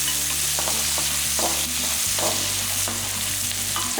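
Small onions sizzle and fry steadily in a pan while cooking a dry fish kuzhambu, with occasional stirring scrapes over a constant close, loud crackle.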